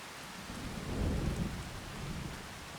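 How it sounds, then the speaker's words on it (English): Steady rain falling in Farming Simulator 25, a dense, even hiss with a low rumbling swell near the start that eases off, no voices. "Let's just go have a run in the rain."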